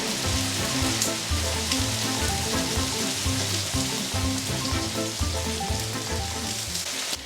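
Loud, continuous close sizzling of a cilantro paste sautéing in a pan with salt, cumin and turmeric, a dense steady crackle with faint scraping stirs throughout.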